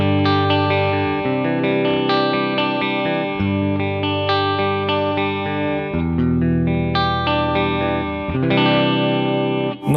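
Electric guitar played through a JOYO DC-15S combo amp with effects, a steady distorted crunch tone with sustained chords and notes ringing continuously and loud, no talk.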